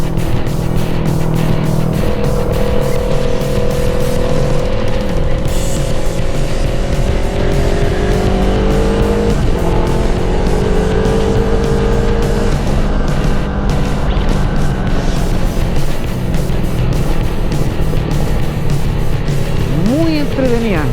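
A Yamaha MT-03 motorcycle is ridden with its engine tone climbing and dropping through gear shifts, under heavy, constant wind roar.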